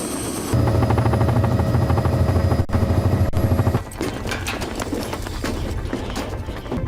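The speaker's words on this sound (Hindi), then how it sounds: "उस हेलीकॉप्टर को कॉल किया जिसे शाहीन कहा जाता है।" A helicopter summoned during an anti-terrorism operation roars with a loud, steady rotor and engine drone for several seconds, then gives way to a busier, rattling mix of lower-level noise.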